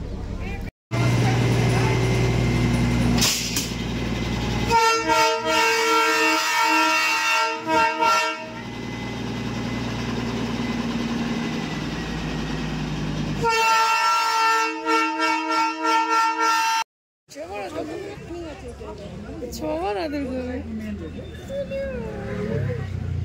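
The Darjeeling toy train at Batasia Loop sounds loud, drawn-out horn or whistle blasts, separated by rumbling and ending in a quieter stretch where people talk nearby.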